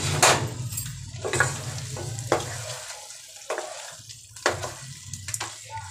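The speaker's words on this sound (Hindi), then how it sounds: "इसे अच्छी तरीके से हम स्पैचुला की मदद से मिला लेंगे" A spatula stirs chicken cooked with whole spices in a pan. Several distinct scraping strokes come close by over a soft background sizzle.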